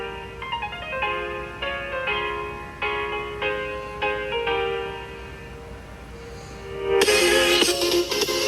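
A song plays through a small BTS-07 Bluetooth speaker from Temu, a series of thin, tinny melodic notes at moderate volume. It ends in a brighter, fuller burst of sound, with no one talking.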